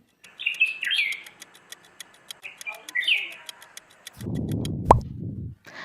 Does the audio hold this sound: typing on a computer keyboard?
no